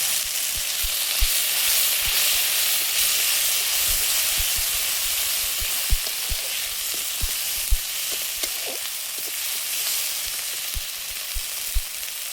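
Spices sizzling steadily in hot oil for Bengali cooking, a dense continuous frying hiss with scattered soft pops and stirring clicks, close and alone with no voices.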